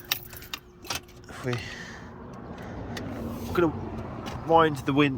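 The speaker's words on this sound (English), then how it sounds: "the first thing I'm going to do is just stick the ignition on" Keys jingle and clack close by as a Volvo's ignition is switched on, a few short metallic bursts mixed with cabin rustling while someone talks over it.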